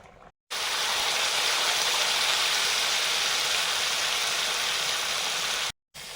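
Water pours steadily into a bowl as it is rinsed, a loud, continuous splashing rush lasting about five seconds that starts and stops abruptly.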